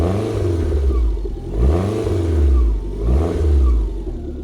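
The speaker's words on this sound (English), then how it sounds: "give it a little rev while I'm stood behind it," A Fiat Coupe with a Lancia Delta engine, heard from behind, is revved repeatedly. Three or four rising and falling throttle swells climb over a steady, rumbling idle.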